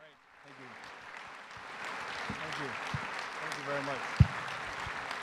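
An audience at a Minnesota Chamber session priorities event applauds to welcome Mark Dayton, a sustained wash of clapping that builds and holds, with a voice speaking over it.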